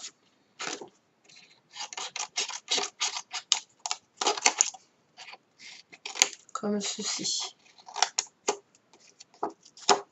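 Scissors snipping paper into strips for a woven paper basket, close-up crisp cuts in quick irregular bursts with short pauses between them, while someone speaks briefly.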